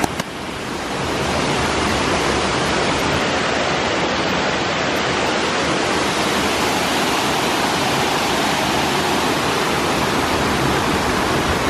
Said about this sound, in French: la cascade pas folichonne, mais la randonnée a l'air plus sympa